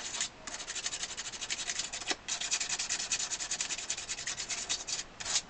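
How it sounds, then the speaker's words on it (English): Celluloid on an accordion treble key surface is lightly roughed up with sandpaper, making a continuous, close rhythmic scratchy rubbing in quick back-and-forth strokes, with a brief pause about a third of the way through. "So what I'm going to do is just lightly rough up the surface"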